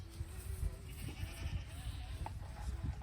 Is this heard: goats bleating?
yes